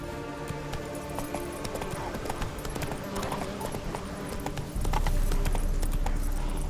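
Horse hooves clip-clopping steadily in The Witcher 3 game, a continuous trotting rhythm close up, with a brief whinny-like tone and a low rumble joining near the end.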